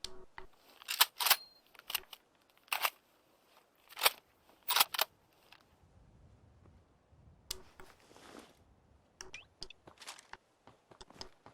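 Several sharp, loud .50 caliber rifle shots from Fallout 4, each a crisp isolated crack spaced a second or two apart, with quieter rustling and a further burst of cracks later.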